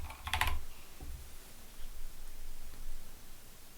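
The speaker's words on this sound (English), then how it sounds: "So let me just type that one in." A verification code is typed on a computer keyboard in a short, close flurry of sharp key clicks near the start, then a few quieter taps over a soft hiss of room noise.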